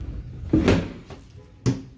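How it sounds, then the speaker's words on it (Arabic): A wooden cabinet door and a drawer on a bedroom dresser are opened, making two distinct close knocks about a second apart, the first a doubled clatter and the second a single sharp thump. "هنا ضرفة وهنا درج، وده درج برضك اهو"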